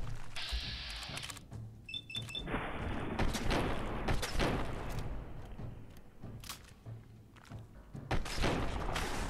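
Gunfire in the video game Fallout 4, a dense run of shots, thuds and booms from a combat fight, with loud bursts repeating over roughly nine seconds amid a busy game soundscape.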